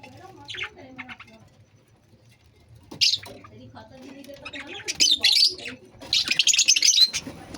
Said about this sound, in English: And that is my lovebirds. Lovebirds. Different color of lovebirds.